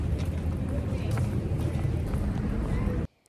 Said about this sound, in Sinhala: දැන් මම මේ බෝට්ටුවෙන් බස් එක ගන්න යන ගමන්